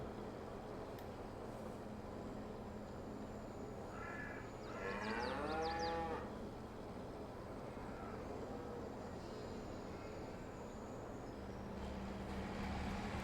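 Cattle in Farming Simulator let out a single clear moo partway through, heard over a steady, quiet farm-ambience bed, with faint bird caws nearby.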